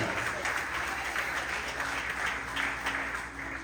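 A church congregation at a family worship service applauds together, a dense, steady roar of clapping from many hands filling the hall at moderate distance and continuing throughout without a break.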